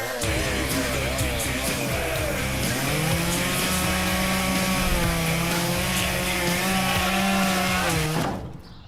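A chainsaw-like engine buzzes loudly and continuously, revving up and down slightly, then cuts off abruptly at the end.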